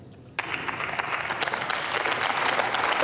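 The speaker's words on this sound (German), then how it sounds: "Applaus" Members of the German Bundestag break into applause in the plenary chamber, clapping starting abruptly after a short quiet moment and building into a steady, dense round.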